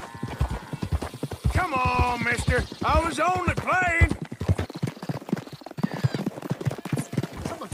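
Horse hooves clip-clop steadily in the Red Dead Redemption 2 video game, and a horse whinnies in a long rising and falling call partway through, with characters talking around the hoofbeats.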